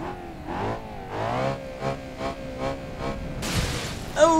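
A car crashes and its gas tank ruptures after a high-speed ski jump in BeamNG.drive on a Swiss Alps map: a series of rhythmic thuds and tumbling impacts, then a sharp burst of noise and a final loud crack.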